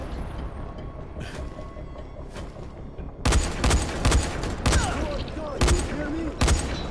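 Gunfire in the Dying Light video game starts as faint distant shots, then becomes loud, close bursts of rapid shots repeating in clusters over the second half.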